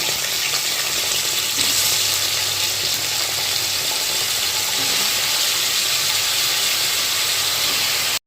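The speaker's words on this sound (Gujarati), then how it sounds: "તેલ અને કડી પત્તા એડ કરી દઈશું અને તેની સાથે આપણે બટેકા એડ કરી દઈશું" Potatoes and curry leaves frying in hot oil for a sama (moraiyo) khichdi, giving a steady, loud, close sizzle and hiss that runs unbroken for the whole stretch with no talking.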